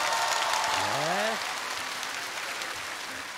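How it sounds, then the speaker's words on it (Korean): A large audience at an outdoor KBS National Singing Contest taping in Andong applauds in a dense, steady wash of clapping that eases a little midway, with a voice speaking briefly over it. "다시 한번 손흥민 씨에게 수고의 박수를 크게 보내주시기 바랍니다"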